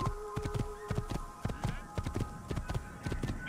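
Horse hooves clip-clop in the video game Assassin's Creed: a brisk, even walking rhythm of sharp hoof taps over a faint steady hum.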